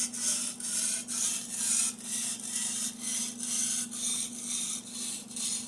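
Shun kitchen knife blade drawn back and forth across a whetstone in a steady rhythm of about ten even rubbing strokes, close and clear with a low hum underneath and no talk.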